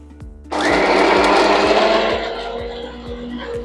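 A kitchen mixer grinder switches on abruptly and whirs loudly for about a second and a half as it blends fried green chillies, sesame seeds and salt for tomato chutney, then winds down.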